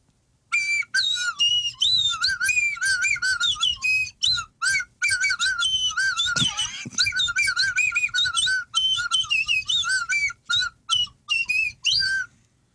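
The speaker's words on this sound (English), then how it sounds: "kind of sounds like slide whistle" Bright, wavering slide whistle tones play a rapid, choppy melody with short gaps, gliding up and down in pitch, loud and close, with no voices.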